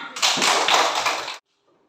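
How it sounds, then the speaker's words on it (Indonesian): A brief burst of classroom applause during a Catholic religious education lesson, with many hands clapping densely and fairly loudly for just over a second before stopping abruptly into near silence. "Kita berikan tepuk tangan."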